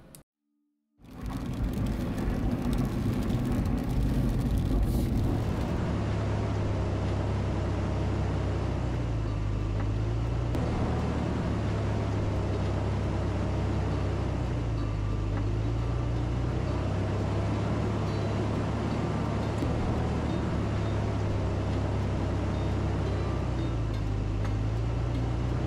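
A truck crawls slowly in four-wheel low down a mountain trail toward Telluride, its engine a steady low drone with gentle rises and falls in pitch and light crunching and rattling over the whole stretch.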